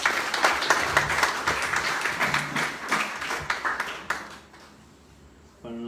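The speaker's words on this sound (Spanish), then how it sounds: "damos un aplauso a hermano Domingo" Mourners applaud a brother at a funeral gathering, several seconds of dense, steady clapping that thins out and fades, with voices rising faintly near the end.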